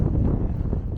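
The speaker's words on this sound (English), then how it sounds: "Sure is windy." Steady low wind buffets the microphone in a continuous rough rumble for about a second on a hiking trail in Medicine Bow National Forest.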